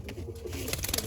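Pigeon cooing inside a pigeon loft, a short close call with a soft rolling coo, heard alone without talk.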